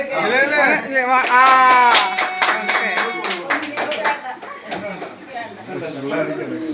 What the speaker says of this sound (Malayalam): ഓക്കെ, കൈയടി.